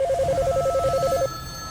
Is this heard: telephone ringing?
yes